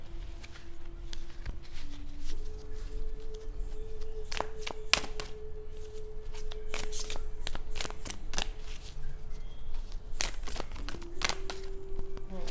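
Oracle cards being shuffled by hand, a steady papery riffling and slapping with sharp card snaps scattered throughout, close and continuous over a faint low hum.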